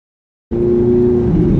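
A Ferrari's engine roars loudly during a test drive, bursting in suddenly after silence and holding a steady, strong mid-pitched drone close by.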